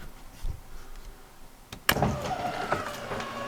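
A steady electric motor whirs after a sharp click as a 2013 Rockwood 3006WS RV awning extends, running continuously at moderate volume with faint background noise before it starts.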